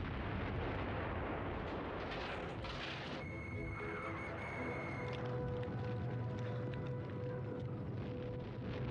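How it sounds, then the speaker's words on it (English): A heavy barrage of Soviet Katyusha rockets and artillery fire during a wartime counter-offensive against German divisions, a dense, continuous rumble of blasts and roaring launches with a steady wall of low booms throughout, loud and unbroken. "A great barrage of Katyusha rockets and artillery announces counter-offensives by 4 more Soviet armies sweeping around the rear of the battered German divisions."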